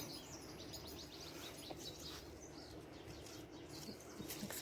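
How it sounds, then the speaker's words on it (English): Several birds chirp and sing in a home garden among tomato and bean plants, with quick repeated tweets and occasional coos layered over a steady low outdoor hum, nobody speaking. "Listen to these birds out here."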